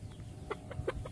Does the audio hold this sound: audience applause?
no